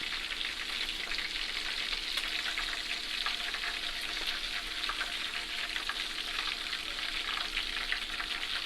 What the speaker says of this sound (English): I have fried little extra, so they have a crispy texture